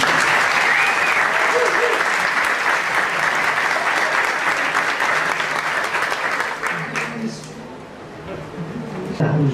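An audience gives a round of applause for the team that organized a seminar on the Rio favela, loud sustained clapping that thins out near the end as a voice begins.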